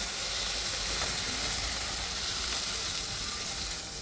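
Fish curry frying and simmering in a pan on a home stove at night, a steady, even sizzle with constant hiss and no voices.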